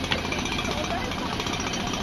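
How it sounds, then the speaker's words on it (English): A two-stroke boat engine runs close and loud with a rapid, rattling, buzzing pulse that holds steady throughout, while people talk over it. "I love two-stroke engines."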